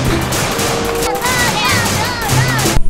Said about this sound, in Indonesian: Kita menemukan mainan pistol-pistolan